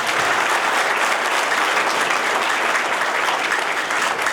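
An audience applauds steadily and fairly close at a Muslim literature award ceremony and Kannada-Urdu poetry gathering. The dense clapping holds an even level throughout with no talk over it.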